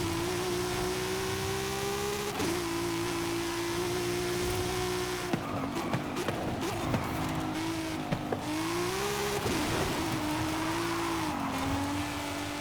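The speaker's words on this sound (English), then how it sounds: "It's putting the FXXK to shame on acceleration, but my god." A BMW with poor-grip tires accelerates hard in Forza Horizon 5, its engine note climbing and dipping through gear changes while tires squeal and scrabble. The sound is loud and continuous, with no talking.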